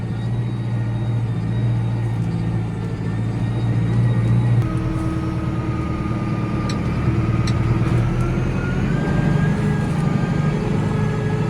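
A 5711M tractor engine runs steadily while slurrying in a field, a constant low rumble at moderate loudness with no talk.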